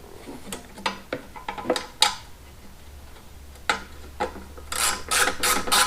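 A ratchet tightens a 5/16 bolt on a Craftsman 21-inch mower, giving close, crisp bursts of rapid clicking strokes with short pauses between them and a faster run of clicks at the end.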